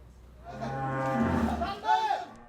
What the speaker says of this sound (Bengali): এক জোড়া ষাঁড় খামার থেকে 5 জন মিলেও বের করতে গেলে এভাবেই নাজেহাল হতে হয়